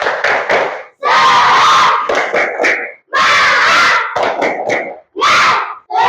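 A group of children in a classroom perform a spirit clap chant, loud rhythmic bursts of shouted syllables and sharp claps in repeated phrases separated by brief pauses.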